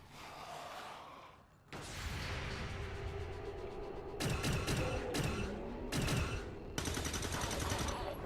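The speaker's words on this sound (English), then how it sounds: "Somebody's got a machine gun" Machine gun or assault rifle fire in an Empire-themed strategy video game, bursts of rapid automatic shots starting around four seconds and repeating in clusters over a steady battle din, fairly loud and close.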